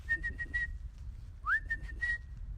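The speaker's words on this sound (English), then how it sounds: "I'm going to give a whistle and see if they come out to visit." Someone at a neighbor's house whistles to call the dogs: a run of short, repeated steady notes, a pause, then a rising slide into more held notes over a low outdoor rumble.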